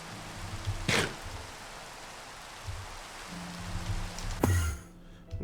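Rain falling in the Minecraft game, Enigmatica 2 modpack, a soft steady hiss with a couple of brief sharp bursts and low hums from the game underneath.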